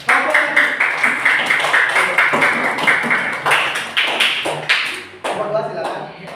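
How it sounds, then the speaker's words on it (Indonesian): A primary school class claps hands together in a steady, rhythmic pattern, loud and close, with children's voices mixed in toward the end. "Tepuk tangan untuk"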